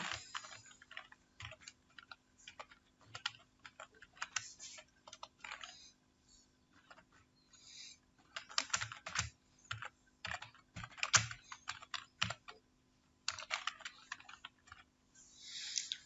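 Keys clack in irregular bursts on a computer keyboard while typing into Microsoft Word, close and quiet, with short pauses between runs of strokes and no talking.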